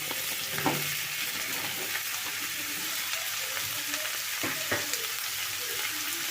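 Eggplant and potato pieces hit hot oil with onion and garlic in a pan, giving a steady close-up broadband sizzle with a few brief stirring clatters and no voices.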